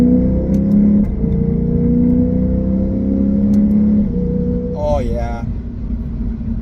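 A Lexus IS500 with an Apex'i N1 Extreme exhaust pulls hard, its deep engine drone climbing in pitch as it accelerates, heard from inside the cabin. A brief shift dips the note and someone speaks near the end.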